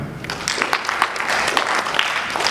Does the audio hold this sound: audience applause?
yes